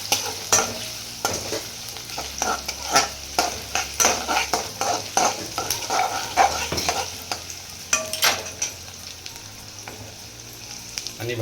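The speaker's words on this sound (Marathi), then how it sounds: "कांदा पण आपण त्याच्यात भाजून घेणार आहोत" Onion and green chillies frying in a pan, a close sizzle punctuated by frequent rhythmic scraping and knocking of a spoon against the pan.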